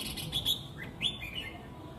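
A caged songbird sings its chirping song outdoors in the late afternoon, with bright chirps and short trills in a few close bursts over a soft, steady background.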